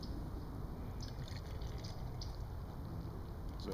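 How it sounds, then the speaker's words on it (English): Malt liquor pours from a chilled 12-ounce green glass bottle into a very cold mug, a steady soft liquid trickle and fill running throughout at close range. "I'm going to give it the pour."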